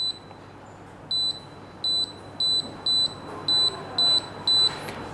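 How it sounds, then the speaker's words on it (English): A ventilator control panel sounds a series of eight short, evenly spaced electronic beeps after its mode button is held down, clear and close against a quiet background hum. "press mode button for 5 seconds and hear a sound of beep"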